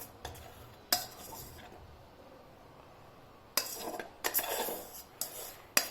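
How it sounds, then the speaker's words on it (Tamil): A spoon stirs powdered sugar into milk in a bowl at home, giving sparse, sharp metallic clinks and scrapes with quiet gaps between them, and no voices. "பொடி பண்ண சுகரை வந்துட்டு அந்த மில்கில் மிக்ஸ் பண்ணுறாங்க."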